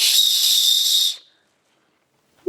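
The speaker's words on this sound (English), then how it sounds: "It does have the whistle on the clip here" A safety whistle built into a backpack sternum clip, blown once in a piercing, steady shrill blast for about a second, close and loud, then silence.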